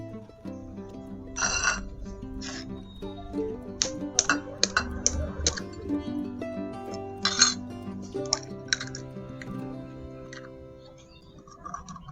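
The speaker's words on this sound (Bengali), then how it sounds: "ডিমটা আমি ফাটিয়ে নিচ্ছি" An egg being cracked for a simple home recipe: a few sharp taps and clicks against a bowl edge, close and crisp, over a soft tonal background.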